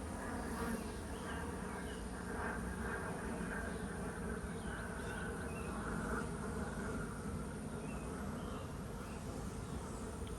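Dense, steady buzzing of many bees at a beehive, close by and continuous, with no talking over the drone.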